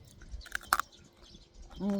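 Close, crisp crunching of a hard snack being bitten and chewed, a few sharp crackles followed by a brief hum.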